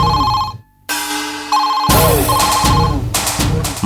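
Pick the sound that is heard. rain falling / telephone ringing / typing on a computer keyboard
telephone ringing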